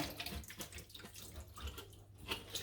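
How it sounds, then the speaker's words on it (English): Water splashes and trickles out of Fluval 307/407 canister filter parts during servicing, a faint, continuous irregular pouring and dripping with no voices. "Water falls out of that really easily."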